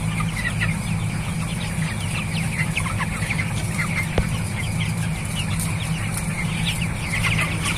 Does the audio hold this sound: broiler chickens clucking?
yes